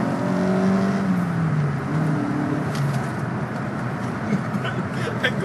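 A 1991 Suzuki Swift GTI engine revving high inside the car, a sustained droning whine that rises and falls under road noise.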